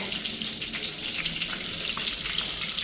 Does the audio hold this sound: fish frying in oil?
yes